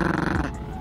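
A dog gives a short, low, rough growl up close that fades after about half a second, with no one speaking over it.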